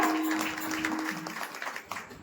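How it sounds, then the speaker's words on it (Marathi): An audience claps at a village women's bhajan competition, a dense, moderately loud patter of many hands that thins slightly toward the end, with a steady tone ringing beneath and faint background voices. "यांच्यासाठी एकदा जोरदार टाळ्या वाजवा"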